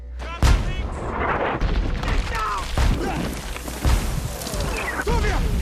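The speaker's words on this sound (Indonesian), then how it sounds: "mereka harus menghindari lontaran bom dari tank tersebut" Shells fired by German tanks in a wartime battle scene from a film about fugitives hiding in a forest; repeated heavy booms and blasts sound through a dense, busy mix with voices and music.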